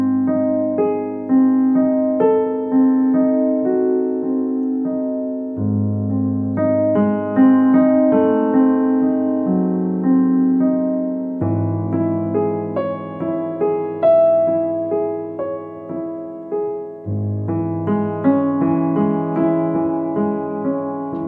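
A piano plays the Moonlight Sonata with both hands together, slow sustained bass notes under a steady rolling triplet figure, loud and close with no talking.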